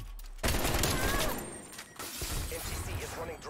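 Rapid gunfire in a Call of Duty Cold War Search and Destroy match, bursts of shots crackling loud and close with shattering impacts, under a player's voice calling out during the round.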